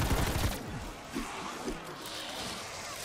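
Zombie hellhounds explode behind the player in Call of Duty: Cold War's Firebase Z zombies map, a burst of heavy booms and crashing gunfire up front, then duller thuds and rumble trailing off.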